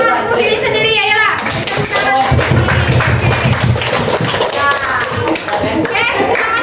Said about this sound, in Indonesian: Kita sekarang beri tepuk tangan untuk diri sendiri ya